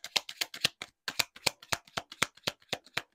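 Tarot cards shuffled and drawn by hand during a card reading, a steady run of crisp riffling flicks and slaps at close range, about a dozen quick bursts with no talk over them.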